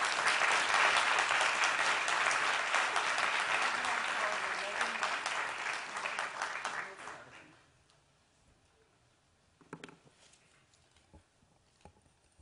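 Audience applause welcoming a speaker, an ambassador, to the stage at a public address: loud sustained clapping from a large crowd that fades out after about seven seconds, followed by quiet room sounds and a few footsteps.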